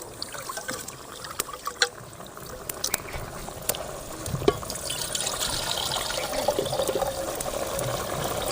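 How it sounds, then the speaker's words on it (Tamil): Soaked foxtail millet draining in a village kitchen, water trickling and dribbling steadily with scattered small clicks, growing slightly fuller toward the end, close by with no voices. "நல்லா தண்ணி சுத்தமாக வடித்து போடணும்."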